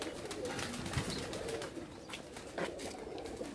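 Pigeons coo on a rooftop, soft low calls rising intermittently from a steady outdoor background, fairly close but quiet, with no talking.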